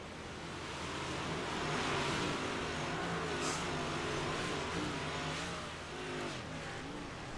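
Race car engine noise at a dirt-track All Star event at Lernerville, a steady loud roar that swells and eases while the car rolls into victory lane, with crowd and track ambience mixed in.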